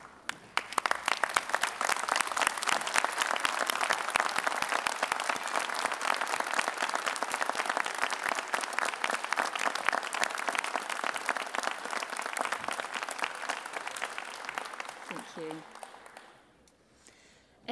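Sustained applause from a graduation ceremony audience at Unitec as staff clap for the graduates. Dense, even clapping runs loud for about fifteen seconds, then thins and fades out.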